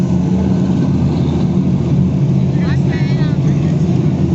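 Dirt track race cars rumble in a steady, loud engine drone as the field restarts on the back straightaway, with a continuous low roar throughout and a voice talking over it.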